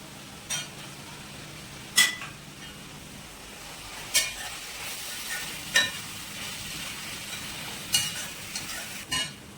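Tomatoes go into a hot pan for a Kerala-style prawn roast, a soft steady sizzle under occasional sharp clinks of a utensil stirring against the pan.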